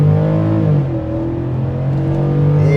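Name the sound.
Ford F-150 Tremor 5.0 V8 accelerating off the line, sport mode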